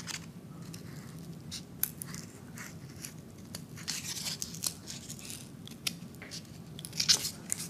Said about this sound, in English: I'm just going to kind of cut some ears.